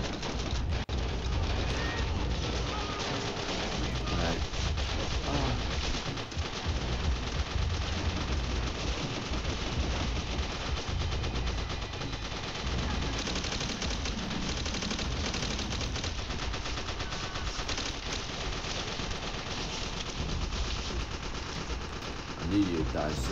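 Dense battlefield gunfire from the video game Call of Duty: World at War, with sustained machine-gun bursts and shots filling the whole stretch as a loud, continuous wash, with a voice talking over it at times.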